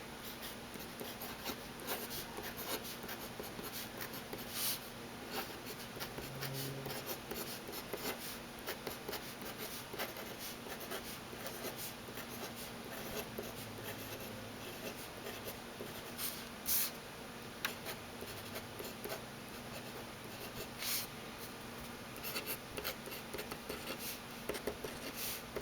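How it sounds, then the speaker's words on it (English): A Pilot Varsity fountain pen writing on paper, a soft, continuous scratchy stroking with small ticks and pauses between letters, close up and faint, with no talking. "So we just did a little writing"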